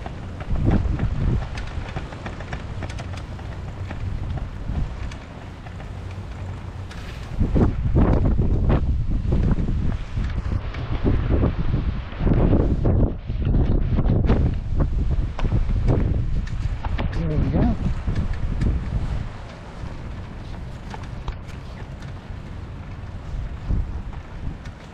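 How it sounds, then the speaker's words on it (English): Wind buffets the microphone on a recumbent trike ride along the Exe Estuary, a heavy low rumble that gusts louder in the middle and keeps up without a break, with no voices over it. "Quite windy."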